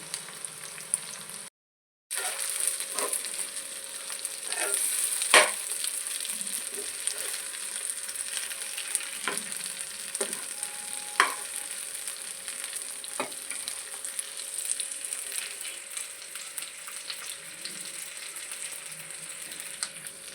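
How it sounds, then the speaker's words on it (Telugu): Pieces of koramenu (murrel) fish fry in oil in a pan, giving a steady, close sizzle with scattered pops and crackles and one brief moment of silence early on. "కొరమేను చేప ముక్కలు ఫ్రై."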